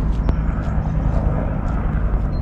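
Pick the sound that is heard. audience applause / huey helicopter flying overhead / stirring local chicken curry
huey helicopter flying overhead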